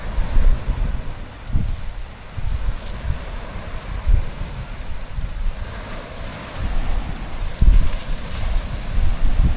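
Rough sea waves at Pandan, Antique surge and break repeatedly against the shore, with heavy low rumbling and gusts of wind buffeting the microphone, no voices heard.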